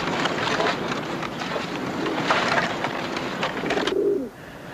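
Pigeons coo softly amid steady outdoor background noise, with a low warbling call near the end before the sound drops away.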